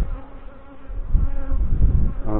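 Honey bees hum steadily in an open hive full of larvae and burr comb during a May inspection, a dense, close, continuous buzz that swells slightly toward the end, with no talking.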